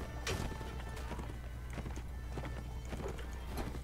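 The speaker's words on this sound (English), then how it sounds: "Because these are all horses" Horse hooves clatter in a steady galloping rhythm throughout a Mount & Blade Warband battle, with the thumping of several horses layered over a constant low rumble of fighting.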